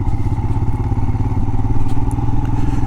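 A Royal Enfield Himalayan motorcycle rides a muddy trail in a wildlife refuge, its engine thrumming loud and steady with a constant low rumble and faint clatter throughout.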